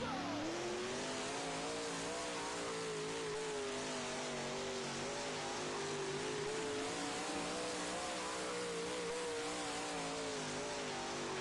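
Dirt track race cars roar steadily at a distance, several engines droning and shifting pitch together in a continuous, moderately faint wash of racing noise with no talk.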